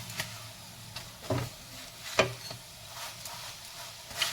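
Potatoes fry in a pan with a soft, steady sizzle, broken by a few brief scrapes and taps as they are stirred and pressed.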